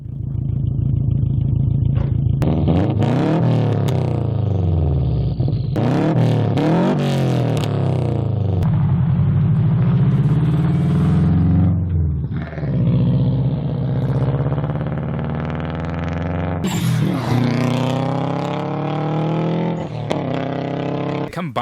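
A Bug-Eye Subaru Impreza WRX's 2.0-litre turbocharged horizontally opposed four-cylinder revs hard and loud up close, climbing and falling through repeated sweeps with a burbling idle between pulls.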